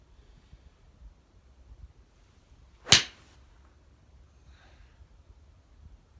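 A single sharp crack of a Callaway Steelhead XR iron striking a golf ball, brief and fairly loud against quiet outdoor wind.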